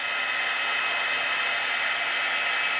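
A heat tool blows hot air to melt ultra high gloss embossing powder, a loud steady rushing whoosh heard close up and alone without pause.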